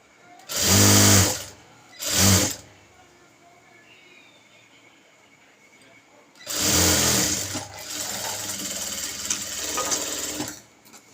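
A sewing machine stitches a blouse along a marked line in two short bursts, pauses, then runs again in a longer steady whir, loud and close.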